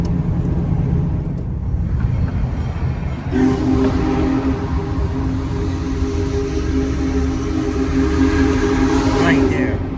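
Union Pacific steam locomotive #4014 rumbles past, its steady low roar joined midway by a loud sustained whistle, with people talking nearby.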